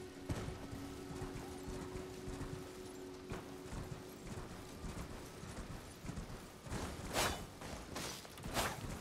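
Horse hooves gallop in the video game Elden Ring, a steady rapid clip-clop over dense game ambience, with a couple of louder whooshing bursts toward the end.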